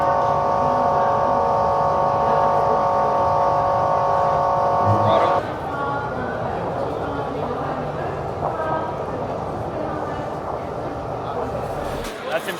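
A Mercury Verado outboard engine running at wide open throttle on a boat, a steady droning hum with tonal whine that shifts midway into a smoother, quieter rumble, with people talking over it.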